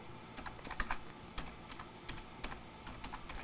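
Someone types on a computer keyboard in quiet, irregular bursts of light clicking keystrokes with short pauses between them, heard faintly up close with no talk.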